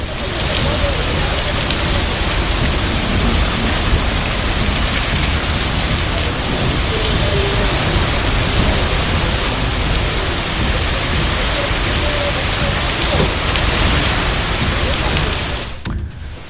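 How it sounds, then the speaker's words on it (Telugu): Heavy torrential rain pours down over Bhubaneswar, Odisha, during a cyclone, a dense, steady roar of downpour that holds at full strength throughout and cuts off abruptly at the very end. "రాజధాని భువనేశ్వర్లో కుండపోత వర్షం కురిసింది"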